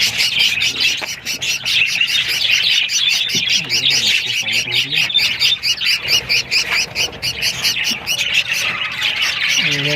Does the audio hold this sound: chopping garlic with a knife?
no